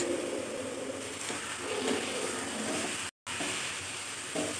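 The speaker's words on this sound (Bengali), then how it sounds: "কচুটাকে খুব ভালো করে ফ্রাই করে নিতে হবে" Taro (kochu) frying in a pan, with turmeric and salt added, gives a steady, close sizzle and hiss that carries evenly throughout, broken by a brief dropout near the end.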